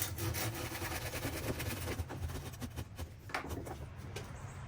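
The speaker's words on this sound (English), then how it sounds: "Or my Japanese pull saw." Wood being cut with a Japanese pull saw outdoors for a rustic garden obelisk trellis, a close series of rhythmic rasping strokes that gets choppier toward the end, with no one speaking.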